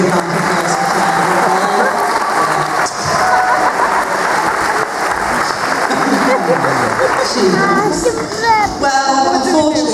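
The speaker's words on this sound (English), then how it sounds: "we'll give him a great big hand for applause" An audience at a live show applauds for a performer, steady dense clapping filling the room throughout, with voices and a speaking host rising over it near the end.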